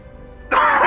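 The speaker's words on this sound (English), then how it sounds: "excuse my coughing" A single cough or throat-clearing bursts out abruptly and close after a stretch of quiet room tone, carrying on loudly to the end.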